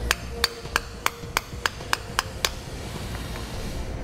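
Sharp, evenly spaced hammer taps, about eight in a row, drive a part home into a Dexter trailer axle idler hub, then stop and leave a quiet workshop room tone.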